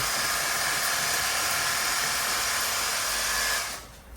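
Water sprays hard onto a dirty external aquarium filter sponge, a loud continuous hiss that holds steady for several seconds and then drops away sharply at the end.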